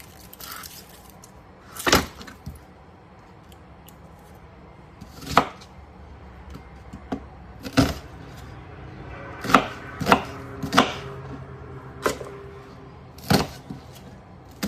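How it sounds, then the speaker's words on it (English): Knife chopping a small onion on a cutting board, with sparse, irregular single thuds spaced a second or more apart, close and moderately loud against a quiet kitchen background. "So I have 1 small onion to chop up and put in my bag."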